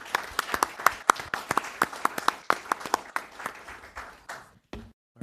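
Applause from an audience at a town hall meeting, a smaller crowd with distinct individual claps in quick irregular rhythm, tapering off and stopping near the end.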